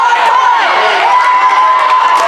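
A crowd cheers steadily at match point of a volleyball grand final, with a loud, continuous wash of shouting and whoops throughout and a commentator's voice mixed in.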